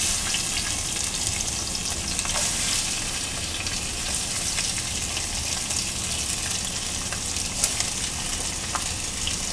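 Bias-cut carrots frying in a pan, a dense, even hiss of sizzling oil that carries on steadily up close, with a few tiny pops.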